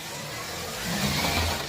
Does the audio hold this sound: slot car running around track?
yes